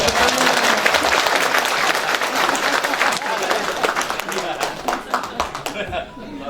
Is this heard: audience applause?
yes